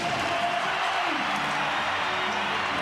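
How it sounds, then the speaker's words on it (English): A rugby league crowd roars in the stands after a North Queensland Cowboys try against the Canberra Raiders, a dense, sustained wall of cheering with commentary talk running underneath. "that brings the crowd to life and puts the Cowboys back into business"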